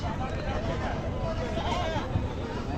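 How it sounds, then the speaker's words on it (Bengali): A crossbred goat bleats once amid constant crowd chatter and background noise at a busy livestock market, with talk running under it. "এটাও একটা ক্রস জাতের ছাগল আমরা দেখতেছি"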